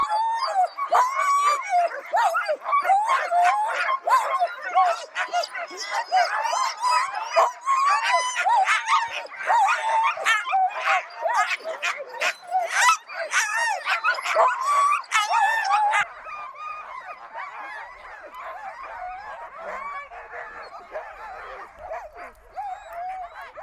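A pack of sled dogs barks, yips and howls excitedly at the start of a mushing race in Matawin, loud overlapping calls that thin out toward the end.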